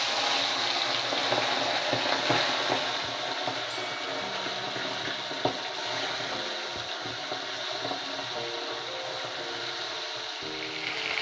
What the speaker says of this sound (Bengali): এবার এর মধ্যে মাছগুলো ভেজে নেব।